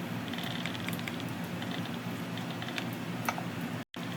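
Rapid, steady typing on a computer keyboard while writing notes in a code editor, dense close key clicks over a low constant hum, ending with a brief cut to silence.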